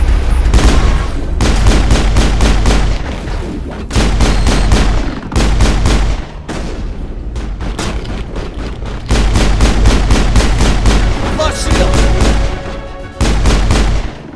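Heavy rapid gunfire from tungsten rounds in the video game Mass Effect, loud sustained bursts of automatic fire with short pauses between volleys, booming impacts layered throughout.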